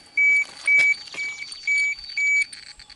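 A radiation dosimeter at Chernobyl gives a steady series of high electronic beeps, five evenly spaced tones each lasting about a quarter second, close and clear over faint background noise.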